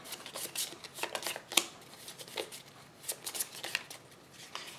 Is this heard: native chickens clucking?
no